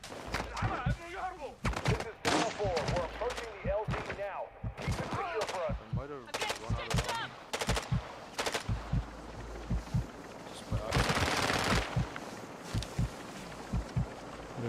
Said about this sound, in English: I'm taking fire. AI is shooting me.